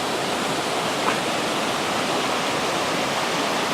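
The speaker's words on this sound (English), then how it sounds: "It is just so nice to have the sound of this river keeping me company." The Big Quilcene River rushes in a steady, unbroken roar along a mountain hiking trail, a dense wash of flowing water that holds even and close throughout with no voices.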